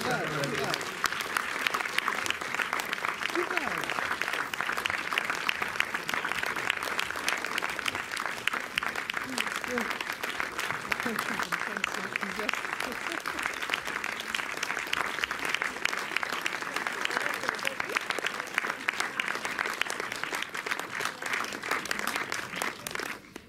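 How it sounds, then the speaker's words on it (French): Sustained applause from a cinema audience at the Méliès, a dense steady patter of many hands filling the room for over twenty seconds, with faint voices underneath. "sous vos applaudissements"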